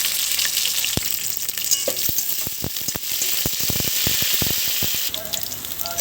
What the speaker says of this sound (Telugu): కరివేపాకు, మిర్చి, పుదీనా వేసి ఫ్రై చేసుకోవాలి.